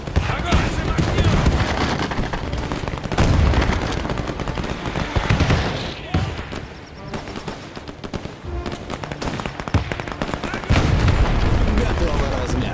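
Artillery and machine gun fire in the WWII strategy game Men of War II: dense, continuous bursts of automatic gunfire punctuated by heavy booms, loud and close, with voices shouting orders over the battle.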